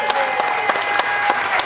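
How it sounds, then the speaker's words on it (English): An audience gives a standing ovation at a survivor day event for patients and staff, with dense, continuous clapping from many hands and a faint crowd murmur beneath. "Standing ovation."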